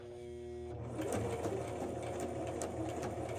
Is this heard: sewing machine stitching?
yes